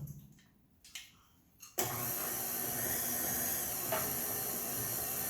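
An electric mixer whirs into buttermilk pound cake batter, starting after a few short bumps and then running as a steady loud high-pitched whine, with no talking.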